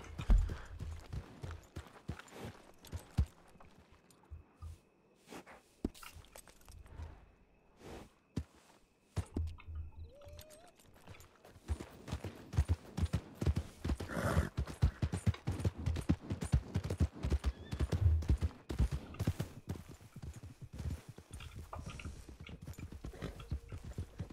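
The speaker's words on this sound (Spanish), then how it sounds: "Escuché caballo y dije, ¿qué está pasando?" Horse hooves clip-clopping in the western video game Red Dead Redemption, a run of sharp, fairly close hoof strikes that grows busier and more rapid in the second half, with no talking.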